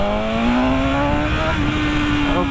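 A BMW S1000RR motorcycle engine revs up under open throttle, a loud, close, rising tonal whine that climbs smoothly in pitch, with a brief gear shift midway before it keeps building.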